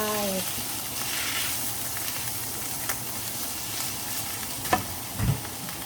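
Konjac spaghetti stir-fried with dried chili, a loud, steady sizzle close by with a few clinks and scrapes of the spatula near the end, and someone speaking briefly in Thai over it.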